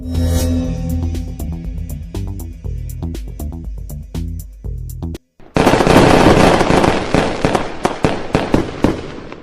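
Rapid bursts of video game fireworks in Sakura School Simulator crackling and popping, a sparse run of bangs, a brief gap, then a dense loud barrage of explosions.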